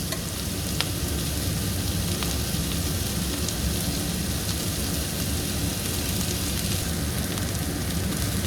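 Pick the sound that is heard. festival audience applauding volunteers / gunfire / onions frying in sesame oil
onions frying in sesame oil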